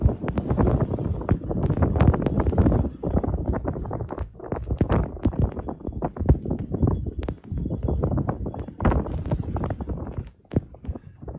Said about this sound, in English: You can just hear the wind blowing.